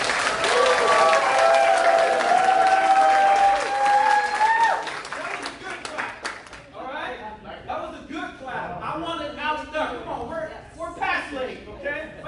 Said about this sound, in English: Give me an outstanding clap.